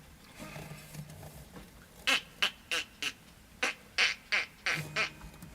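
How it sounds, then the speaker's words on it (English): A duck quacks in a quick series of about nine sharp, fairly close calls, preceded by quieter, indistinct background sound. "It's a duck."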